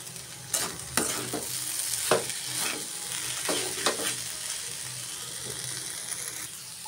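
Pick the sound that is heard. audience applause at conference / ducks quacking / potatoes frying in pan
potatoes frying in pan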